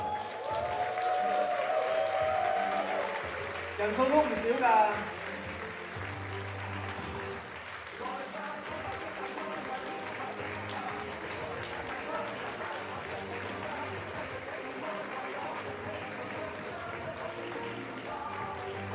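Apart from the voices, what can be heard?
audience applause at a press conference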